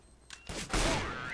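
A sniper rifle shot in Counter-Strike: Global Offensive, a sharp loud blast with a ringing tail, preceded by a smaller click-like report.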